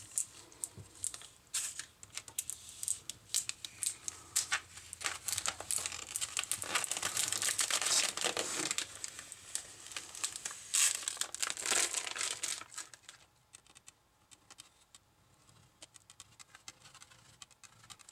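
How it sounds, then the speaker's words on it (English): Transfer tape being peeled back on itself while glass tile etching, a dense crinkly crackle of sticky film pulling away, close and continuous for about twelve seconds, then fading to quieter scattered rustles. "I'm going to peel my transfer tape back on itself."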